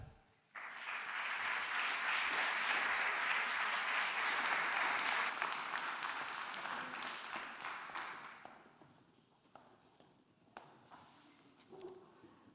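Seminar audience at a cultural management event breaks into applause, a dense wash of clapping that starts abruptly, holds for several seconds, then thins out into scattered claps and faint room noise.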